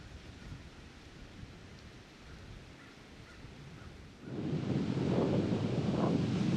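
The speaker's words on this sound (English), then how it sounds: "the wind did not die down at all tonight" Wind gusts outdoors at a deer hunting stand, a soft, breathy rush that swells into a louder, buffeting roar of wind noise against the microphone partway through.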